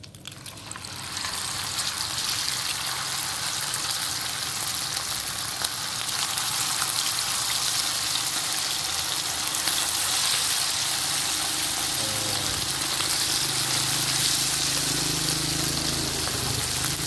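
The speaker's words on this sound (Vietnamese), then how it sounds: "Giờ tới cái phần mình chiên ếch, mình lấy dầu này mình chiên luôn nha các bạn." Frog pieces frying in hot oil for a rustic countryside dish, a loud, steady sizzle and crackle that holds close and continuous throughout with no talking.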